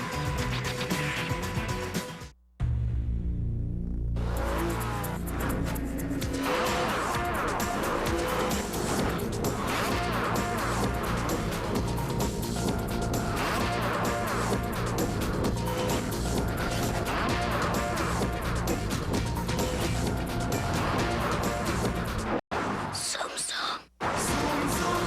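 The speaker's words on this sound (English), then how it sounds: "a sports car like no other. The all-new Mazda RX-8" An all-new Mazda RX-8 sports car drives in a TV commercial, its engine and tire noise mixed under a dense, continuous music bed with a voice speaking over it.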